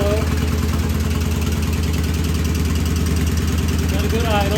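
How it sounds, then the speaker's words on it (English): Steady, loud idle of a vintage British motorcycle engine under repair, a close, even low-pitched throb holding a constant rhythm throughout. "Got a good idle."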